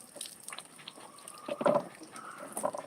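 Tap water running during a dog's bath, with a soft, steady gush and splash that swells briefly in the middle, heard up close and without talk.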